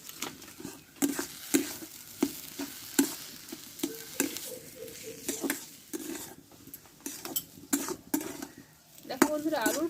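A potato filling fries and is stirred in a pan with a spatula, giving a steady sizzle broken by frequent scraping strokes, up close and moderately loud, with occasional utensil clinks near the end.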